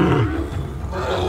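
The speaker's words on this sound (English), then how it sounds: "Leo and Snow would walk away after the fight, roar out loud as if it was a victory." A lion in a wildlife camp roars loudly and close after a short fight, a deep, rough, sustained bellow with no talk over it.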